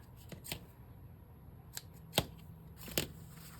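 Scissors cut the stitching off a homemade notepad made from junk mail, giving a handful of crisp, separate snips spread across a quiet background.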